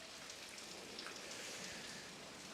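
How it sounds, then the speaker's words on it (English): Steady rain falls on a Welsh dairy farm, a faint, even hiss of drops on surfaces with no voices heard. "they're not impressed with this rain"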